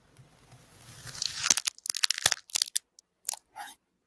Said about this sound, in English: AI ASMR glass fruits. Okay, check this out. Now it makes noises.